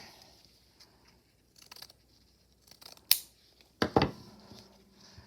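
Scissors cut a strip of fabric, giving several short, close snips and crunches separated by quiet pauses, with a louder pair of cuts near the end.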